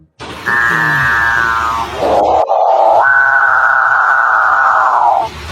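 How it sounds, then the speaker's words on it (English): A capuchinbird's deep, drawn-out mooing call in two long phrases separated by a short break, loud and close. "Capuchin bird."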